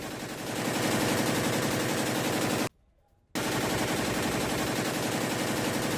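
Remote-controlled gun built by a Ukrainian company fires in loud, dense continuous bursts, a sustained roar of gunfire broken by one brief silent gap.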